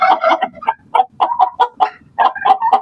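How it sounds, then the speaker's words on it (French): A white Araucana rooster clucks up close, loud and repeated in short, uneven bursts with brief gaps between them. "Ça, c'est un coq araucana blanc."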